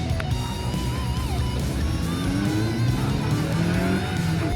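A Honda S2000 race car pulls out of the pit lane with a loud, close engine note that rises and falls through revs, with faint tyre squeal and other cars around, no talking.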